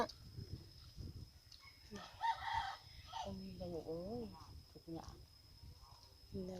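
Chickens and a rooster around a rural yard: a rooster crows in a rising, wavering call amid scattered clucks, fairly faint and mixed with people talking nearby.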